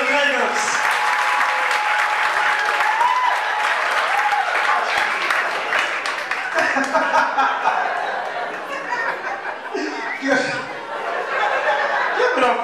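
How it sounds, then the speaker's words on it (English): Comedy competition crowd breaks into sustained applause, with scattered chuckles and chatter mixed in and an announcer's voice heard over the clapping. "Let's make some noise for our host, Mr. Will Jacobs."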